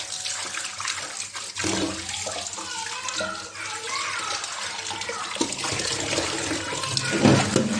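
Running tap water splashing steadily into a sink while raw chicken pieces are washed, with sloshing and handling noises, fairly close with no talk.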